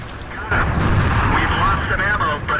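A tank gun in an online tank battle game fires with a heavy booming blast, followed by a rumbling roar, while players talk over the noise.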